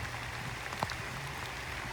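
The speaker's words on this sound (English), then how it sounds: "pretty muggy, pretty rainy" Steady rain falls on leaves and surfaces in a muggy forest hung with Spanish moss, a constant close hiss with a few distinct drops standing out briefly.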